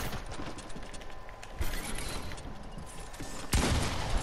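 Gunfire in a shooter video game, with a couple of sharper shot bursts standing out over a busy, noisy in-game background of clatter and hum.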